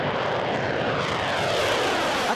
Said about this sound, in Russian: Впервые в боевых условиях на задание отправлены и новейшие истребители Су-35С.